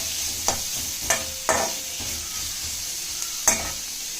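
Onions, ginger and garlic fry in a pan for onion chutney, with a soft constant sizzle broken by several sharp scraping stir strokes at irregular intervals, close up.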